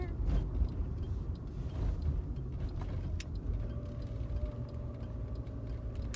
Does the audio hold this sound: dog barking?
no